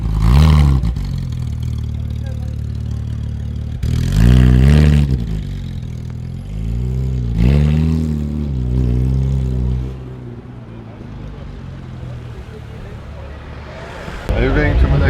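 A Porsche GT3 RS with a non-original exhaust line, the engine rising and falling through several loud, close revs before settling into a lower rumble, a voice speaking briefly among the revs.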